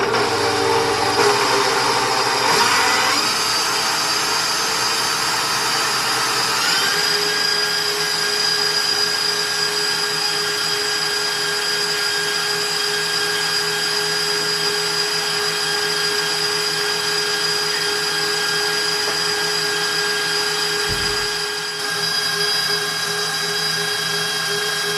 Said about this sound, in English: we just mix this up until it becomes whipping cream